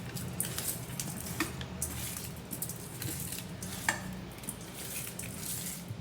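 Spoon scraping and clinking in a pot as chili powder and salt are mixed into a small-fish curry, soft irregular stirring and light metallic taps close by, with no one talking.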